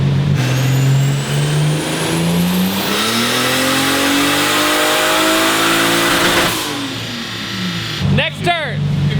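A 2JZ-swapped Nissan 240SX with a small GTX turbo revs hard on a dyno, the engine note climbing loud and steady before cutting off, followed by sharp turbo chatter and popping.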